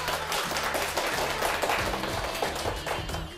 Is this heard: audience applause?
yes